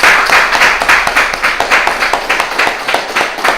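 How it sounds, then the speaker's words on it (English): Sustained applause from a crowd, dense overlapping claps with steady loudness and no talking. "Let's give our brother minister another a long, hard round of applause."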